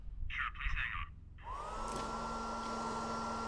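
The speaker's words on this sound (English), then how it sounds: "It's the hand dryer." A hand dryer in a video game restroom kicks on and runs with a steady, loud whirring roar. It follows a few short bursts of a similar blowing noise.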